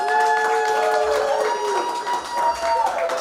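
A studio audience applauds for a podcast host, with moderate clapping and some cheers under a sustained musical tone and brief voices.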